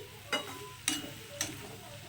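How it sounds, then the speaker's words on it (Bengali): Rohu fish curry with potato, eggplant and flat beans is stirred in hot oil. Three soft scraping strokes sound over a steady low sizzle. "আর দেখুন একটু নাড়াচাড়া করে দিচ্ছি"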